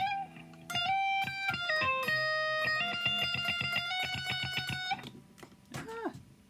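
Distorted electric guitar phrase from a song in Freaky Friday, a run of picked notes with slides and sustained bends, loud and close, trailing off into a brief final slide.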